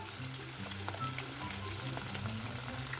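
Eggless kebab pieces frying in hot oil, a steady close bubbling sizzle that holds at an even level throughout, with a low hum underneath and no voices.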